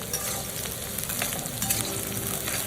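Capsicum and green chillies fry lightly in a pan with a steady, close, dense sizzle and crackle that stays even throughout.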